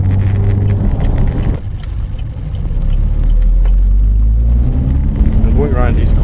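A 2015 Opel Astra OPC on a test drive pulls hard with a rising engine note and strong low rumble inside the cabin, building in the second half, while someone talks over it.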